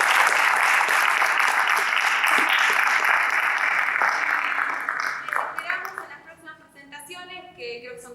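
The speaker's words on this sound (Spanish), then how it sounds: "Un gran aplauso también." Audience applause at a contemporary theatre event, loud and dense at first, then thinning into scattered claps that fade out over the last few seconds.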